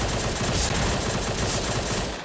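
Rapid gunfire aimed at a barrel in the top-down shooter Surviv.io, a dense, continuous burst of loud shots running through the whole stretch with no talk over it.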